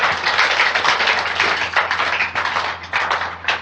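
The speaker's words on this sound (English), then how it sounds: "Please clap for yourselves." Loud, close clapping from many hands at once, a dense steady patter that thins slightly toward the end.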